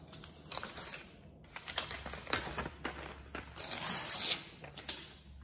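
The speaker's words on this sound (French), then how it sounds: "on va déchirer le papier déjà" Paper is torn and handled close by during a love ritual with water, giving quiet, irregular ripping and crinkling bursts that swell and fade over a few seconds.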